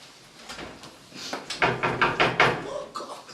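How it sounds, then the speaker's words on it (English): Knocking during a paranormal investigation at Harwich Redoubt Fort, a series of about five firm, evenly spaced raps on a door or wooden surface, fairly close and loud, with a few lighter taps before them in a quiet room. "We change tactics and decide to try to get a response with knocking."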